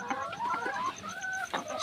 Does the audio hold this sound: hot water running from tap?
no